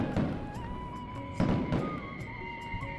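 Cartoon fireworks burst in a Diwali night sky, a few booming thumps and crackles over a bright ringing musical backdrop, moderately loud with no talk.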